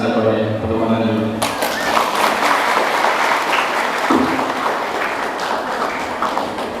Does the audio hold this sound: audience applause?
yes